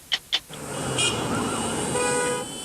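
Two short car horn toots sound close together at the start in New Zealand traffic, followed by a steady, moderately loud rumble of passing vehicles.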